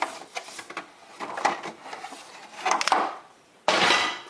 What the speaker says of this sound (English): So let's take it out of the box.